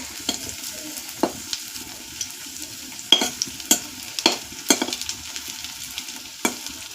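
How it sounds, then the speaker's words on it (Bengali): Fritters (bora) deep-frying in hot oil in a home kitchen, a steady close sizzle broken by several sharp pops and stirring clinks, with no talk. "এই যে বড়া ভাজা হয়েই গেছে প্রায়"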